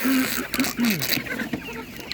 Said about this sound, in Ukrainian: Чеський домінант, курочка гарно несеться.